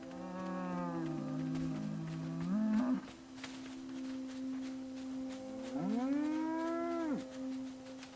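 A cow named Roro in the video game Sand Land moos twice, one long low call at the start and another a few seconds later, clear and fairly close against a quiet background.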